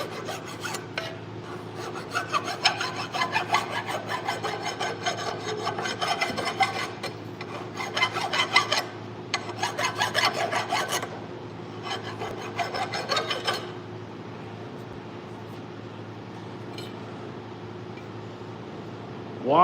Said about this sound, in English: Why file the threads? Because it will not, the bolt won't start.